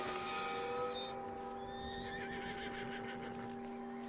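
A horse whinnies in a video game, a long wavering neigh over a steady tonal drone, with faint hoof clops beneath.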